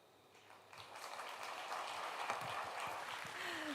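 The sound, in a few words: audience applause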